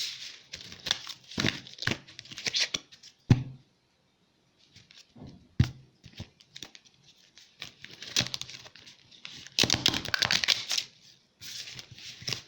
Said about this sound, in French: On me dit de bien mélanger. Donc je mélange.